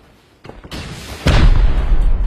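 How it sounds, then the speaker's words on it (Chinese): RPG rockets explode in the survival video game Rust, a short sequence of booms: faint thuds first, then a loud, close blast that leaves a sustained heavy rumble. "这家两发 RPG， 两发 RPG 进去了"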